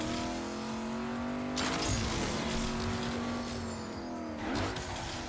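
A badly damaged car in the racing video game Agents of Mayhem drives on with a steady engine drone that shifts pitch, broken by bursts of skidding noise, and no talk.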